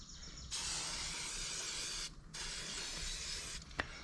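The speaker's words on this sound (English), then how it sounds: "We'll spray that again just to be sure it's good and sprayed." Butter spray aerosol can at a thrift-store camping cookout, two long steady hissing bursts close by, the first about a second and a half, the second over a second, then a short click.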